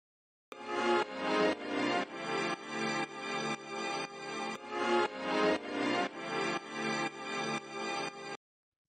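A looped sample from a jazz track, a band phrase with rhythmic pulsing chords that repeats twice, starting and stopping abruptly and playing fairly quietly with no voices.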